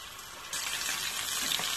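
Salmon fillet laid into a hot pan, the sizzle jumping louder at the moment it lands and then hissing steadily, close and alone.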